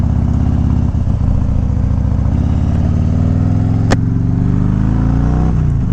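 Motorcycle ridden at around 30 mph with a windshield fitted, its loud, steady engine drone rising gradually in pitch as it accelerates, with a brief clack partway through, close up and without talk.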